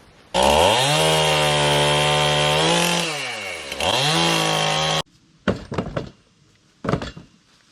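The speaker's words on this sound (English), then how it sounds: "I feel like there's a lot of chainsawing in these videos." A chainsaw cuts wood at an off-grid cabin homestead, roaring loud and close for about five seconds with its pitch dipping under load twice, then going quiet before a few sharp knocks and thuds of wood.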